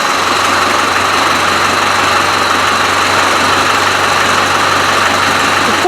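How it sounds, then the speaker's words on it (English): A Land Rover 300Tdi diesel engine in an African 110 idles steadily and loudly, a constant close clattering rumble with no change in pitch for the full length. "So let me fire this beast up, if it will start again."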